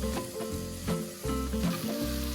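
Soy sauce sizzling over stir-fried vegetables and garlic in a wok, a steady close hiss with a few fuller bursts as the pan is tossed, heard alone with no talk.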